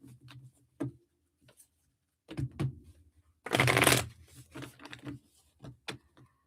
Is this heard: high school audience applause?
no